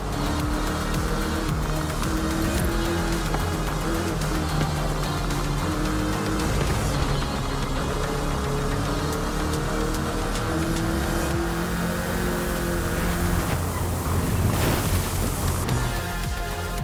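A Volkswagen Beetle (Vocho) drives in the racing game Forza Horizon 5, its small engine droning steadily with a dense, continuous road roar under a game soundtrack, without talk.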